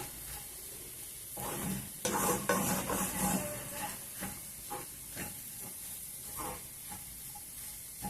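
Cluster beans and egg curry is stirred in a hot pan, a spoon scraping and tapping through the mixture over a steady sizzle and hiss, with a few louder clanks against the pan's side.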